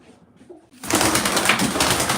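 Pigeons coo and stir inside a coop. A faint quiet stretch gives way after under a second to a dense, loud mass of bird sounds with no speech.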